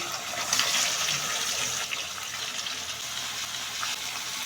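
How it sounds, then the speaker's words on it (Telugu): Raw unseasoned chicken pieces dropped into hot oil give a steady, loud wash of hissing and bubbling that runs unbroken and fairly close, with no talk over it. "సో ఫస్ట్ అయితే ఆయిల్‌లో వేసేసుకోవాలి"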